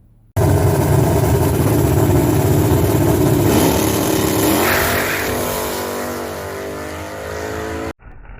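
A Toyota Supra drag car launches hard, its engine snapping into a loud sustained roar that strains and shudders with tire shake, then fades slightly before cutting off abruptly.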